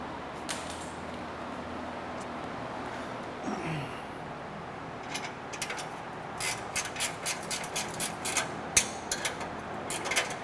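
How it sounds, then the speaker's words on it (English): A GearWrench ratchet cranks bolts during a Chris Smith Racing exhaust install on a Porsche 991 GT3, giving a run of quick, evenly spaced metallic clicks over a quiet workshop hum. "These little gear wrench ratchets are expensive, but it's worth every penny."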